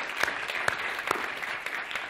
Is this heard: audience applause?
yes